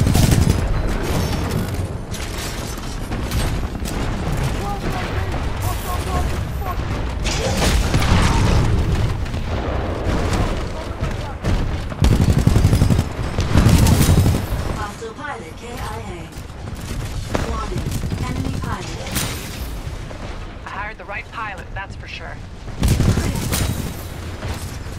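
Gunfire from the video game Attack on Titan: dense, loud bursts of shots and booming blasts keep going for the whole stretch, with a player talking over the action at points.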